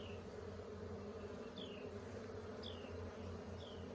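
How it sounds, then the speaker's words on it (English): Honeybees from a rehived swarm crawl over dark hive comb laden with red pollen, giving a steady, dense low drone of many wings close by, with a few faint higher chirps above it. "A lot of bees on this side."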